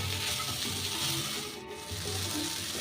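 Tomatoes fry in a pan with salt and Kashmiri chilli powder, giving a steady, close sizzle that dips briefly midway and then resumes, with no talk.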